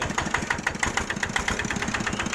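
A used walk-behind tractor's diesel engine idles steadily nearby, its rapid rhythmic chugging even and unbroken, with no voices.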